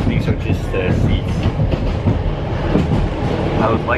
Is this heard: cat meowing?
no